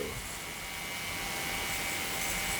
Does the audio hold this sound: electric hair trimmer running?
yes